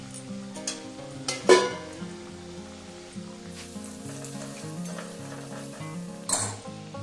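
Potatoes fry in a pan with salt and turmeric, making a soft sizzle under sharp clinks and scrapes of a spoon against the pan. A low hum runs steadily beneath.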